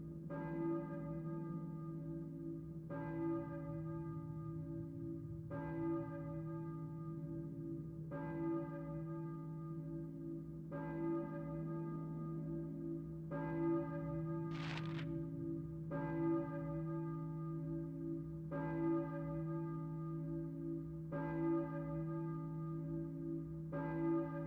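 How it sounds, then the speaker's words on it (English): A church bell in the Silent Hill PS1 game tolls steadily, about every two and a half seconds, each strike ringing out over a low continuous droning hum, with no voices. "I hear a church bell."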